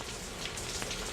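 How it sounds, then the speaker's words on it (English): Steady rain falls at night in Dhaka, a dense, close hiss of drops on surfaces with no voices. "It's raining, obviously."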